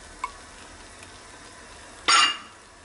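Pasta dropped into hot olive oil in a pan, giving a sudden loud burst of sizzling that fades after a moment, following a quiet stretch with a faint clink.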